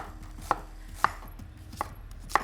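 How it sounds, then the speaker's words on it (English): A knife thinly slices half a red onion on a cutting board: four crisp, evenly spaced chops about half a second apart, close but quiet, with no talk. "red onion to begin with. Just going to use half of one. So just thinly slice it."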